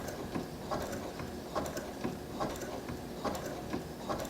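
A domestic sewing machine, model CS5055, sewing a buttonhole under foot-pedal control, giving a steady close mechanical clatter with soft rhythmic clicks recurring about every half second and no voices.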